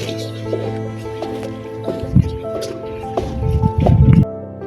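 Laundry soap paste is stirred by hand with soft wet squishing and sloshing scrapes in an irregular rhythm, close by, while a voice speaks over it.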